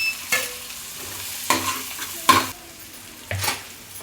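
Grated coconut fries in a pan for Andhra-style masala rice, a low, gentle sizzle broken by four distinct scraping stirs of a spoon against the pan, spaced about a second apart.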